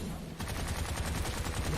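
Rapid automatic gunfire during a boss fight in the video game Bright Memory, a dense burst of quick repeated shots, loud and continuous without pause.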